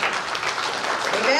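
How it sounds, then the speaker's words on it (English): Church congregation clapping for God during a Sunday service, a dense continuous wash of many hands, loud and close, with voices calling out over it. "Give God a hand clap."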